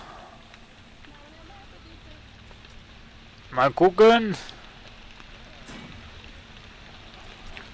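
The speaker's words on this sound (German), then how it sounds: "Es regnet wieder und sie haben ja Gewitter eingebaut" Rain falls in the World of Warcraft video game as a steady, soft patter that runs throughout, briefly interrupted by a short burst of speech in the middle.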